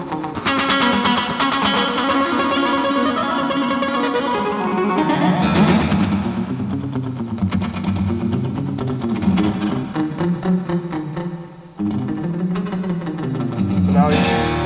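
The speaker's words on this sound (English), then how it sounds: "It almost has like a kind of a tape echo sound to it." An electric guitar played through a delay pedal loaded with a custom Bullseye TonePrint, giving a rockabilly-style tape echo; loud, continuous picked phrases smear into repeating echoes for about fifteen seconds.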